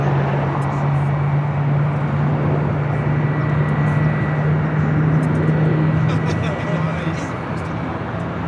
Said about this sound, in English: United 757-200 touching down here on the south side